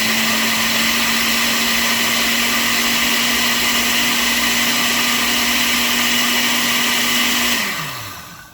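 A blender runs at a loud, steady whine while blending a sea moss smoothie, a constant motor drone close to the mic that winds down in pitch as it switches off at the end.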